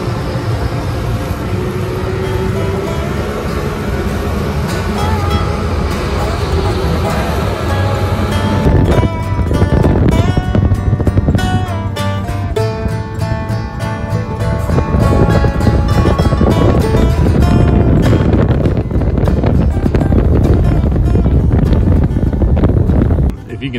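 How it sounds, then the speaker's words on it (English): Strong wind roars over a lake while out on a skiff, a loud, continuous buffeting that grows heavier partway through and persists to the end. "the wind's blowing like crazy"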